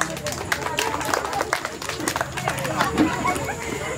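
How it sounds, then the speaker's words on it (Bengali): Children in a Teachers Day classroom clap for a correct answer, a scattered run of sharp claps over lively chatter and babble, close and fairly loud throughout. "একদম সঠিক উত্তর দিয়েছে। জোরে হাততালি, জোরে হাততালি।"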